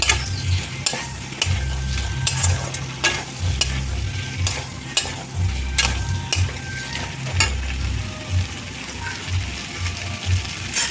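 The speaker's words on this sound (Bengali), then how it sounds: "আলুগুলো দিয়ে আবার কষিয়ে নেব।" Potatoes fry and are stirred in a pan for a light egg curry, with a steady sizzle broken by repeated spatula scrapes and clanks against the pan, close and continuous, with no talking.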